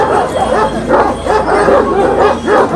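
Several Kangal shepherd dogs bark and yip in overlapping bursts at a breed-standard dog show, loud and close, with a busy crowd murmur underneath.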